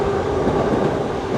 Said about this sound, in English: There goes the train, so under the trains